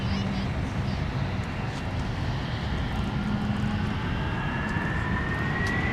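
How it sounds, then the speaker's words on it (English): A Delta Heavy jet takes off at Minneapolis–Saint Paul airport in winter, a steady, fairly loud engine roar that holds throughout, with a rising whine building toward the end. "Delta 160 Heavy. Cleared for takeoff"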